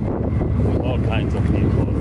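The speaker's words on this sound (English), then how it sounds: "Super windy." Strong wind buffets the microphone with a steady low roar, while a voice talks briefly over it.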